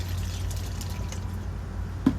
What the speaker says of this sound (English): We're gonna pour some water,